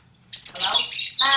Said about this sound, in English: There's a couple birds in there, but hello birdies!